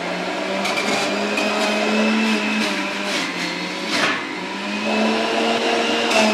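An electric juicer runs while pressing cucumber juice, its motor giving a steady, loud whine that wavers in pitch as the produce feeds through, with no talking over it.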